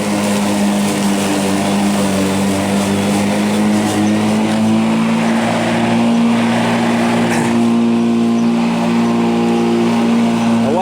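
A Black & Decker cordless electric lawn mower, about a year old, runs steadily with a loud, constant motor whine and hum, close by, with no speech over it.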